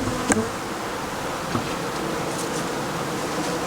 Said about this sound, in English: So there's some bees up on the wax.